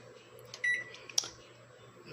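Microwave oven keypad beeps: a couple of short, faint electronic tones against a quiet room hum.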